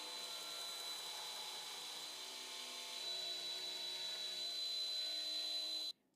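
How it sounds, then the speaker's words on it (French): An angle grinder shapes a Damascus steel tanto blade with a continuous high-pitched whine that holds steady, grows slightly louder, then cuts off abruptly near the end. "je dois utiliser la meuleuse pour la pousser dans ce sens"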